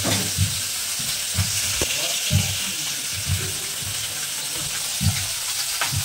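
Pieces of large rohu fish fry in a little oil in a pan, a steady hiss and sizzle with occasional louder spits and stirring bumps, while someone talks over the cooking.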